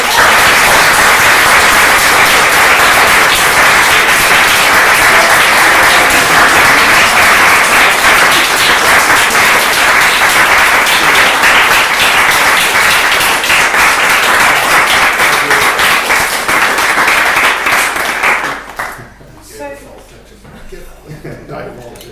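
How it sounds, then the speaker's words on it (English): A large conference audience gives a long, loud, sustained round of applause that fills the room for about eighteen seconds before it quickly dies away. "can we please give Paul and David a huge round of applause"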